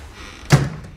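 A single closet door opening in the horror video game It Lurks, heard as one short, fairly close thud-like knock with a brief tail, standing alone over a quiet background.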